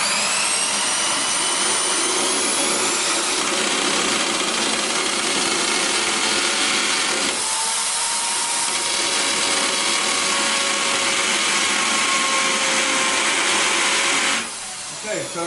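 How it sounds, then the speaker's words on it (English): Power drill boring steadily into a glazed tile wall indoors, a continuous loud whining grind with a brief pause partway through, then resuming before cutting off near the end. "Try to get the drill parallel to the floor, parallel to the wall, and go."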